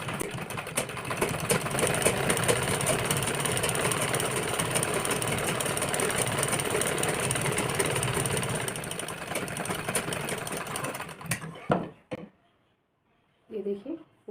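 Electric sewing machine stitching steadily along the edge of blouse fabric, a continuous close mechanical whir that runs for about eleven seconds before stopping, followed by brief silence and a short voice.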